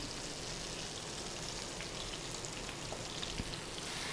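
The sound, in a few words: goat liver (kaleji) frying in oil on a tawa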